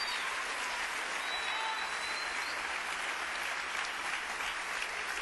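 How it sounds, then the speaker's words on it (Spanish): Church congregation applauding in a steady, dense patter of many hands, even and sustained with no break. "Dale un aplauso al Rey bendito."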